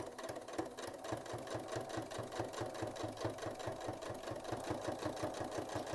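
A Janome DC3050 sewing machine stitching denim, its needle knocking in a fast, steady mechanical rhythm that quickens as it runs, close and fairly quiet with no voices.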